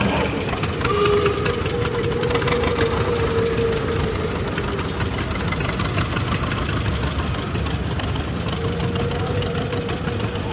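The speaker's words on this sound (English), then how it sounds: "this is a 1950 John Deere Model B, owned and operated by Sarah Welton" A 1950 John Deere Model B tractor runs in a parade of power at a threshing show, its engine chugging loudly and steadily throughout.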